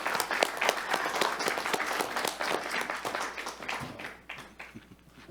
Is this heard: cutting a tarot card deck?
no